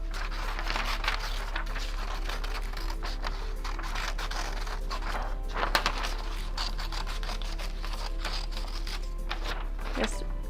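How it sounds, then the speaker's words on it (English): Scissors snipping through paper while cutting out a butterfly-shaped mask, giving repeated crisp cuts and paper crinkles over a steady low hum, close and moderately loud, with no voices. "And now I need to cut out the mask."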